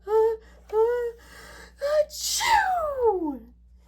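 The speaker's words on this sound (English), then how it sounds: "And I sneezed a great sneeze." A voice acting out a great, exaggerated sneeze, with a few rising gasping breaths building up before a loud, sweeping "achoo" that trails off downward.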